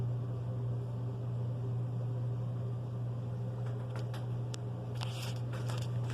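A Hampton Bay 42 inch ceiling fan spins steadily with a constant low hum and soft airy whoosh, joined near the end by faint light ticks and rattles.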